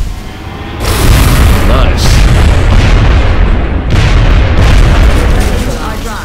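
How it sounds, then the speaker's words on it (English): A loud, booming in-game explosion from the strategy game XCOM Enemy Within, with a sustained rumbling blast that swells and rolls on for several seconds, a second surge following close behind. "look at that explosion radius."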